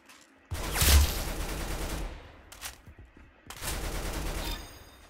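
Video game gunfire in a 1v1 match: loud, close bursts of rapid shots, then a short single crack and another sustained volley, with near-silent gaps between them.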